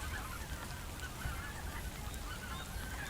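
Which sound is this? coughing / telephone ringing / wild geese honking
wild geese honking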